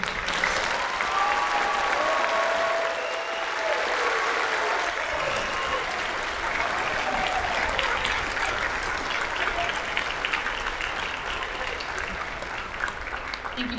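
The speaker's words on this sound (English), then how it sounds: "Can we please have another round of applause for them?" Sustained audience applause for a 5th and 6th grade student band at a school spring concert, steady, dense clapping filling the hall for the full length with a faint tonal hum underneath, no voices.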